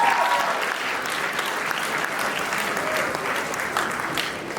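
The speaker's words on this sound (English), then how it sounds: "Can we have another round of applause for Ashane?" Wedding guests at a reception break into sustained applause for Ashane after a toast, dense clapping that stays fairly even throughout.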